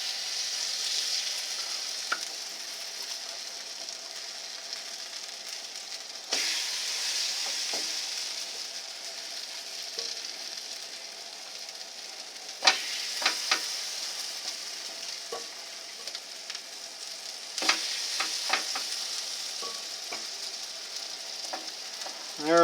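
German potato pancakes fry in a pan of hot oil, a continuous close crackling sizzle with occasional sharper pops and scraping as more batter is added.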